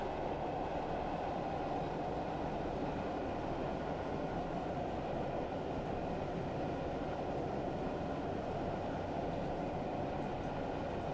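A 1950s train runs on the Stour Valley Railway in Train Simulator Classic, a steady rumbling roll with a faint rhythmic clatter of wheels that holds even throughout, with no talking.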